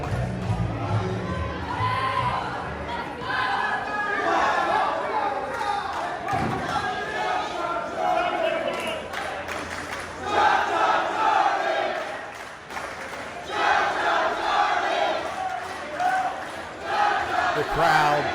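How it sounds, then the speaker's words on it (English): Crowd at an indoor Coastal Championship Wrestling show chants and roars for a popular wrestler, a loud rhythmic mass of voices that surges and dips throughout with occasional thuds. "The crowd chanting for Cha-Cha Charlie"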